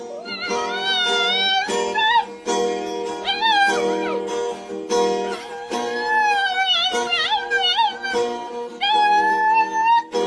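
A cat meows in long, wavering, drawn-out cries over a busker's steady instrumental song, loud and close, continuing almost without pause.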